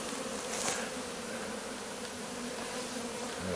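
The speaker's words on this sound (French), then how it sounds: "Là, il y a des abeilles partout" Dense, steady buzzing of many honeybees swarming close by at an open Layens hive, a continuous droning hum with no voices.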